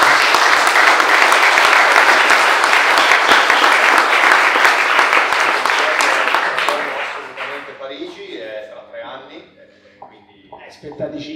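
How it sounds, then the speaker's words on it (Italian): A studio audience gives an Olympic archery silver medallist loud, continuous applause at an interview, then the clapping dies away and people begin talking. "Applauso!"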